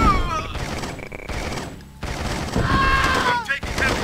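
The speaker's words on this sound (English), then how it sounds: "I'm taking heavy fire!" Bursts of rapid gunfire in the strategy game C&C Tiberian Sun Firestorm, loud and choppy, with pauses between volleys, mixed with game voice callouts and sound effects.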